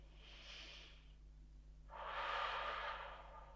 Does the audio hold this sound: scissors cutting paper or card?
no